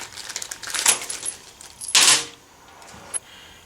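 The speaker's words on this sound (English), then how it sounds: "Now we'll take our bolts out of our packet here." Metal bolts rattle and clink as they are shaken out of a small parts packet during a Honda CRF250L skid plate install, with two bursts of close metallic jingling and a single sharp tap near the end.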